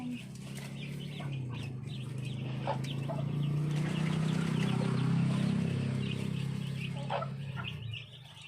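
A black hen guarding her eggs clucks and fusses up close, with a continuous low grumbling call, some rustling and brief higher chirps, while a voice speaks over it.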